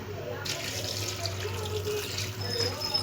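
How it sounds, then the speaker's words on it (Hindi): Water runs steadily into a pot of chickpeas with turmeric, a soft hissing splash, quiet and continuous, over a low background hum. "पानी बहुत ज़्यादा नहीं डालेंगे"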